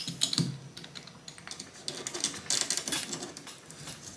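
A pizza cutter rolls new screen mesh into the spline channel of a window frame, making quick, close ticking and crackling clicks in an uneven run.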